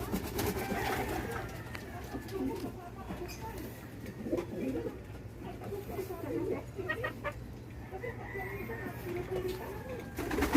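Pigeons cooing softly around a hen at feeding time, with low coos and clucks scattered through a quiet outdoor background and occasional faint sounds of people nearby.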